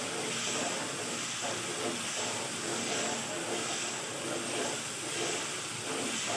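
Ground spice masala frying in a hot pan for chana masala gives a steady, loud sizzling hiss with faint crackling throughout, a low voice speaking underneath.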